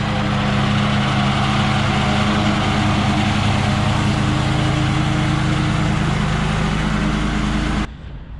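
A Walker riding lawn mower cuts grass with a steady, loud, close engine drone and broadband blade roar that holds unchanged for several seconds, then abruptly drops away near the end.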